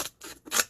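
Scissors snipping through craft material to cut off tabs, two quick close cuts with a short pause between, crisp and alone at an arts and crafts table.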